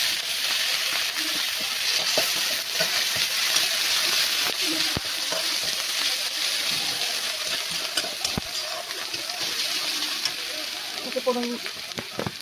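Ginger, garlic and onion are dropped into fish oil left over in the pan for a curry, giving a loud, steady hiss and sizzle that runs the whole time, with faint stirring clatter.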